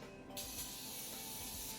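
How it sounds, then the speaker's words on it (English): Coconut oil sprayed onto glass ramekins makes a close, steady hiss that starts abruptly and continues without a break. "we're just going to spray all of our glass ramekins"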